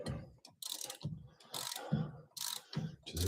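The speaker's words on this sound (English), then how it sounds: "This bolt is just coming right out of here." A ratchet loosens and spins out a brake caliper slider-pin bolt on a Nissan Altima during a brake pad job, giving repeated bursts of close, bright clicking with short pauses between them.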